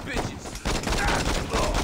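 Gunfire in the video game Saints Row, dense bursts of rapid shots in a loud, continuous barrage with brief gaps, with voices talking over the shooting.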